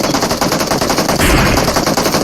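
Dense, loud bursts of rapid automatic gunfire from a shooter video game, rattling continuously for a couple of seconds with no pauses and no voices.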